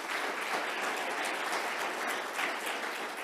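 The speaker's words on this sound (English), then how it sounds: "So for Jill, I'd like everyone just to give a round of applause." A brief, steady round of audience applause at an openEHR talk, moderately distant clapping continuing evenly with no voices over it.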